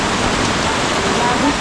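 Heavy rain pours down steadily in a flooding downpour, a dense continuous wash of water noise filling the scene, with faint voices beneath it.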